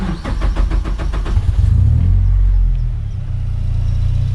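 A Ford Sierra engine cranks with rhythmic turning-over pulses, then catches and settles into a loud, close, low rumbling idle running off the fuel pump and ECU.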